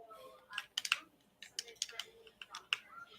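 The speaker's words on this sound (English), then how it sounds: "The keyboard was very loud." Loud computer keyboard typing picked up on an online voice chat, with sharp clustered key clicks in short bursts against a quiet background.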